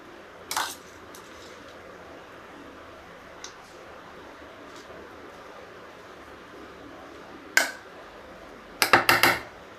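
A spoon mixes beetroot salad (koshimbir) in a bowl, giving a few sparse metallic clinks over a quiet background, with a quick cluster of taps at the end.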